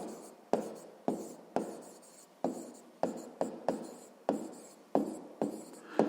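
A pen writes math on paper, scratching in short, quick strokes that each begin with a sharp tap and then fade, about a dozen of them in an uneven rhythm, close and clear.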